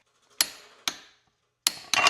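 A torque wrench clicks as a fastener on a car's clutch assembly is tightened to spec, giving four sharp, close clicks in the quiet, the last two in quick succession.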